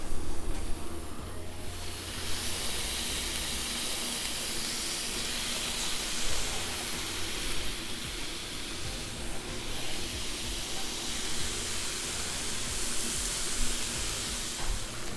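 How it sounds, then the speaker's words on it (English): Pork belly sizzles steadily on a hot Blackstone flat-top griddle, a loud, continuous hissing fry that holds close and even throughout with small swells. "So we got the pork belly over here cooking."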